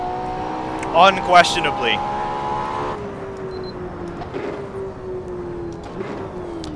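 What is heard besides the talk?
Ferrari car driving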